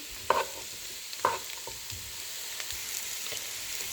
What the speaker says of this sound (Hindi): मशरूम डालकर मैं 5 to 7 मिनट्स के लिए इसको सौटे करूंगी